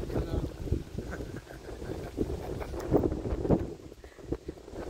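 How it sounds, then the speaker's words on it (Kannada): Steady wind rushes and buffets against the microphone in gusts, a rough continuous roar with no voices. "ನೋಡಿ ಗಾಳಿ ಸೌಂಡ್ ಕೇಳಿಸ್ತಾ ಇದೆಯಾ, ಎಷ್ಟು ಚೆನ್ನಾಗಿ ಬರ್ತಾ ಇದೆ ಅಂದರೆ ಗಾಳಿ"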